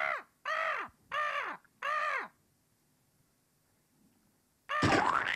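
A crow gives four loud, harsh caws in a steady sequence, each clearly separated, then falls quiet before a sudden noisy burst at the end.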